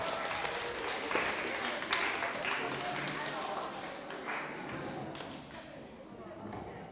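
A student audience at a National Honor Society leadership training gives a round of applause, steady mid-level clapping that carries through, with voices mixed into the crowd noise and the clapping tapering slightly toward the end.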